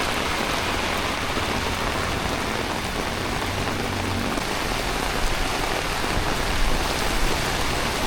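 Heavy rain falling during a flood in Palembang, Sumatra, Indonesia, a loud, dense, unbroken hiss of downpour that holds steady throughout, with no voices.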